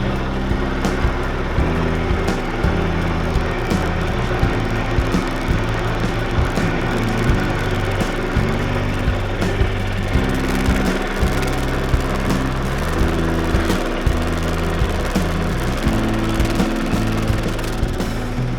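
A milling machine runs a carbide end mill through steel while making a new support bracket for a 1946 Willys Jeep CJ2A, producing a steady, loud mechanical drone with a rhythmic chattering texture throughout.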